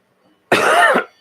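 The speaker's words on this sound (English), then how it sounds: "I'm trying not to do any aggressive coughing." A single short, harsh cough, close and loud, after a moment of near silence.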